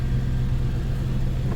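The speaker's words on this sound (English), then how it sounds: "So I've got the vehicle running." A 2004 Toyota Tundra 4x4 idles in park in two-wheel drive, giving a steady, continuous low engine rumble with an even drone throughout and no revving.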